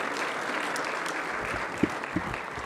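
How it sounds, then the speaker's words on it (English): Steady applause from the audience at a panel discussion at the African Leadership Forum in Kigali, a dense even patter of many hands with a couple of louder claps near the end and no talk over it. "Can we give a big round of applause to everybody who has shared and spoken?"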